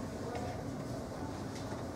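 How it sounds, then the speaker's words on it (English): Moving Queensbound New York subway R train: a low, steady rumble of the car in motion, with faint rattles, heard from inside at moderate loudness and no clear talk. "It's not safe to walk around the train while it's moving."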